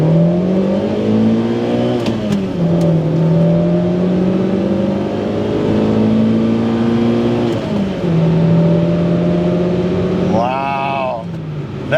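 Inside a Toyota Sera with a 1.5 litre engine, a loud droning engine note climbs through the revs, dips at gear changes around two and eight seconds, then climbs again, heard close from the cabin.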